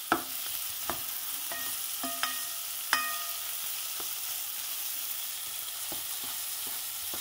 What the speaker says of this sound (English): Caramelize them onions just a little bit if you can manage to get it going long enough to do so.